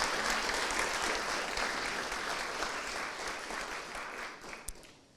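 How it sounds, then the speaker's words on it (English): Sustained audience applause at an alumni achievement award ceremony, a steady even wash of many hands clapping in a large room that gradually fades toward the end, fairly distant. "Please give him a round of applause."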